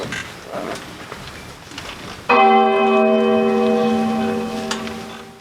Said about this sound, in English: The Windsor bell has struck 12.